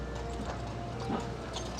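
Horse hooves clip-clop on a New York City street in TriBeCa, steady and moderately close over constant traffic and city noise.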